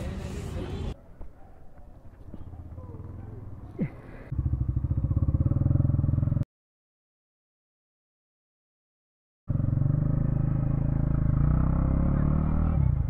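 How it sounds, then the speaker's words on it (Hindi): A KTM Duke 390 motorcycle rides along just after getting a new chain and sprocket, its engine a steady close rumble with wind, broken by a few seconds of total silence before the riding noise resumes. "भाई अब निकल रहे हैं घर की तरफ, भाई इतनी आवाज़ नहीं आ रही है अब ड्यूक 390 में"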